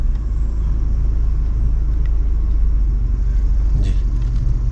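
Tata Nexon automatic petrol car driving, a steady low cabin rumble of engine and road noise from inside, loud and continuous with a brief click near the end.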